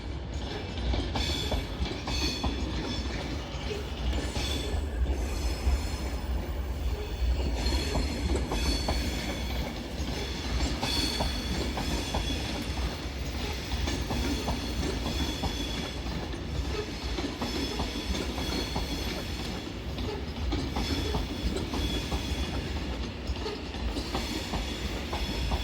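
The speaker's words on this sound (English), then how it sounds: "Departing now will be your 13:06 Avanti West Coast service from Glasgow Central" An Avanti West Coast Class 390 Pendolino electric train departs Glasgow Central, its steady rolling rumble and wheel clatter sustained and fairly loud throughout with no talk.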